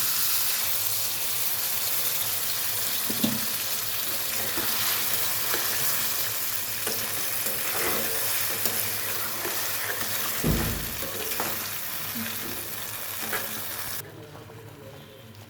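Ground paneer paste frying in a pan with sugar hisses loudly and continuously, broken by stirring scrapes and soft knocks, then drops away abruptly near the end.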